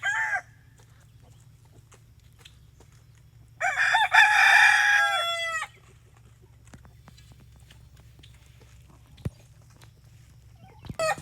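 A rooster crows once loudly and close by on a homestead, a drawn-out call standing out against a quiet background with a few faint clucks and knocks.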